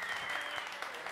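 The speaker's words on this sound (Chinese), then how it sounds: "掌声鼓励鼓励。" A studio audience at a televised pub singing competition gives a short burst of steady clapping, heard alone at moderate level.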